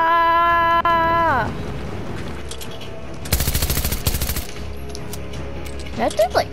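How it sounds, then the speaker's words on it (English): Rapid SMG gunfire aimed at a boss in Fortnite, sharp bursts of shots in the middle of the clip over game music and effects, with another short volley near the end. "Oh, this SMG might be the best gun to use against him."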